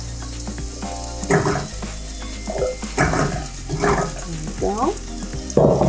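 Garlic, shallot and ginger hitting hot oil in a pot for a spicy prawn and butternut squash Thai soup, repeated bursts of loud sizzling over a low hum, with a brief spoken remark.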